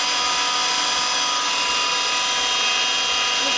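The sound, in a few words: Star SV32J CNC Swiss lathe main spindle running at 2500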